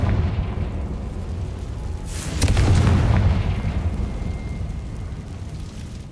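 Confringo blasting spell in Hogwarts Legacy: a single deep rumbling boom with a crackling burst, swelling over ambient game rumble and fading slowly, with no talking.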